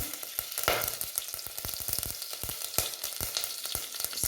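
Whole spices (cinnamon, cloves, mace, cardamom and torn bay leaf) fry in hot oil for fried rice, giving a steady, close crackling sizzle with frequent sharp pops throughout.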